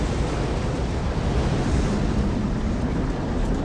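Steady rushing water from a Minecraft river, a dense, even wash of noise with no breaks, loud and close throughout, with no one speaking over it.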